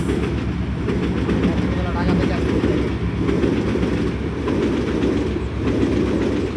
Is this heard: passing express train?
yes